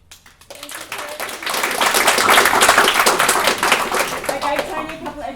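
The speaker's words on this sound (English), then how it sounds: "Everyone was clapping so hard for you" An audience at a Falling Walls Lab event in Melbourne claps loudly and steadily, swelling quickly and then tapering off, with a voice briefly audible at the start.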